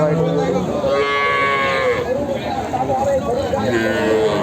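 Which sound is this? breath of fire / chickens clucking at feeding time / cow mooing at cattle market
cow mooing at cattle market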